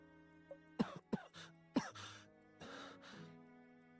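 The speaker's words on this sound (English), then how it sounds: "Uh-oh, he's coughing." A male character in the game Tears of Themis coughs and clears his throat in a few short, close bursts separated by pauses, over a quiet sustained musical background.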